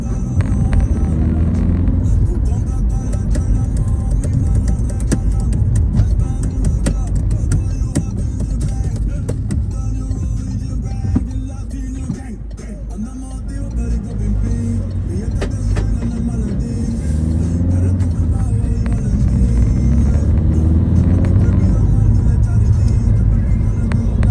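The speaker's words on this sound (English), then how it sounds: "Lots of cars here because there's two primary schools opposite each other." Traffic rumbles past on a road between two primary schools, cars humming and swelling by steadily, heard from inside a moving milk float under occasional talk.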